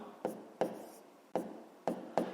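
Pen strokes on paper setting down a math solution, five short scratchy bursts spaced irregularly, close and fairly quiet with no talking.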